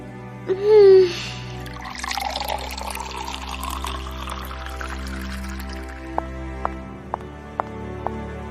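Water pours into a glass as a short, bright trickle and fill that fades into quiet room tone. A few faint clicks follow, with no voices.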